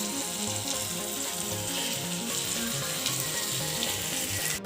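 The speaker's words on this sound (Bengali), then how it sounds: "জিরে ফোড়ন দিয়ে দিলাম" Cumin seeds crackle in hot oil in a pan as crab curry cooking begins: a dense, steady sizzle holds close and loud for the whole stretch, with a low rhythmic layer underneath.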